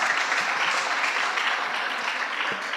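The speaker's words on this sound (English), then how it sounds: "Give them a round of applause." Steady dense applause from an audience at a school debate contest between two high school teams, a continuous wash of many hands clapping with no talk over it.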